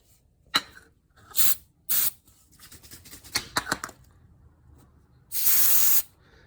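Brake cleaner sprayed from an aerosol can onto the throttle body of a Mazda 3: several short hissing bursts, then one longer, louder blast near the end, all close up with no voices.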